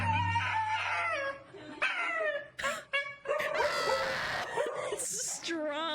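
A dog howls, whimpers and yips in drawn-out, wavering cries while plastic booties are put on its paws, with brief breaks between bursts and a person talking close by.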